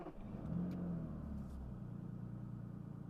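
A classic Aston Martin engine, running in restricted performance mode because of a throttle and ECU fault, fires up and settles into a steady, close, rumbling idle.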